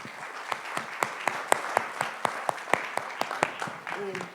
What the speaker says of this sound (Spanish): Un aplauso para nuestras panelistas.